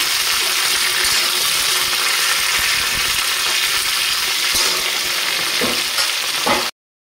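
Cut drumsticks and potatoes stir-fried in a hot pan, a loud, close, continuous frying hiss with a few scraping stirs, no voices, ending abruptly.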